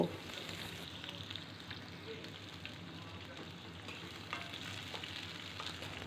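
Pumpkin pieces stir-fried in hot oil for a spinach stem chochchori, a steady dense sizzle and crackle running throughout at close range, with occasional faint spatula movements.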